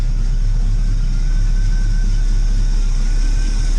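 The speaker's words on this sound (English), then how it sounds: "she's idling real nice" A 1984 Oldsmobile Cutlass engine with a freshly tuned carburetor idles steadily up close, a smooth low rumble with a faint high whine running through it, no voices.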